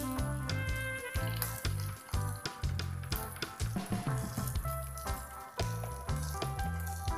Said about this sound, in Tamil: எல்லாம் சிக்கன் நல்லா ஃப்ரை ஆகிடுச்சு